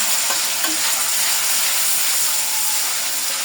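Cumin, garlic and onion paste fries in oil in a wok with a steady bright sizzle, broken by a few scraping stirs of a spoon early on; no voices.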